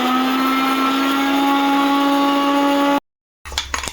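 A mixer grinder grinds spices with salt, its motor letting out a loud, steady high whine for about three seconds before it cuts off abruptly. A few clattering knocks follow.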